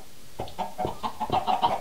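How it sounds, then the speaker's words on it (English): Chickens in the Minecraft video game cluck in a series of short, close, bursting calls that grow busier toward the end, with no talk over them. "Oh, jeez, Matt, there's still chickens in here."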